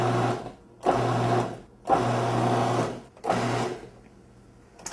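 Food processor pulsing pastry dough toward a crumbly texture: three loud motor bursts about a second each, separated by short pauses, close and without talk.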